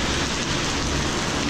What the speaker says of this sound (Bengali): এই বৃষ্টিতে এই যে আমি একা একা হেঁটে হেঁটে যাচ্ছি।